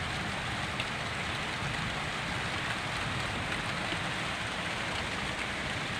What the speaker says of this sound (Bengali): দেখো কি সুন্দর বৃষ্টি শুরু হয়ে গেছে, আর পাতার উপরে বৃষ্টি পড়ছে